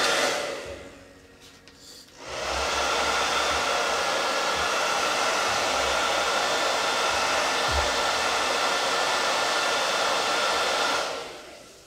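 A heat gun used for a chalk craft project blows a loud, steady whooshing roar that starts after a couple of seconds of quiet and runs continuously before cutting off near the end.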